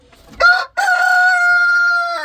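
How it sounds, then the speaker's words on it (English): A white Spitzhauben hen trying to lay an egg gives a short squawk, then a long drawn-out loud call, close up, with no other sounds around it. "These 2 white Spitzenhabens have been in here making noise like they want to lay eggs"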